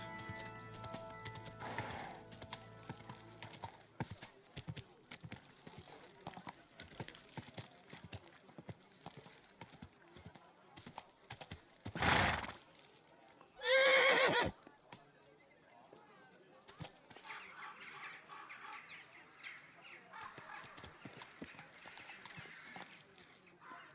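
Medieval horse in the game Kingdom Come Deliverance clip-clops steadily through the scene, with a louder whinny or snort bursting out near the end, while a voice speaks to it now and then.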